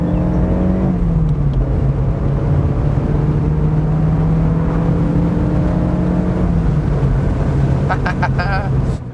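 Mazda MX5 NC Miata engine droning steadily inside the cabin as the car accelerates, a sustained tone that climbs and shifts through the run with talk partly over it.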